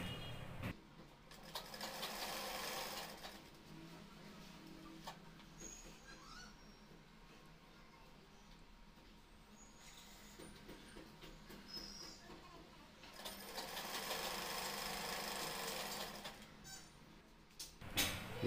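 A sewing machine stitches double seams on a cross pocket, running in two rapid, steady bursts of needle chatter separated by a quieter pause with faint handling of fabric.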